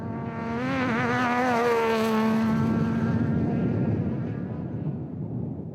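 An RFS BMW race car passes close by with a loud, steady engine drone whose pitch bends and falls as it goes past, fading into broad roaring noise.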